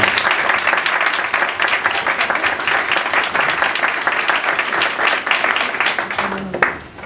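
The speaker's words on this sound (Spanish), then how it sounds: "podremos recibirla y darle la bienvenida con un aplauso" A room of people applauds in welcome for a speaker, dense continuous clapping at fairly close range that tapers slightly at the end.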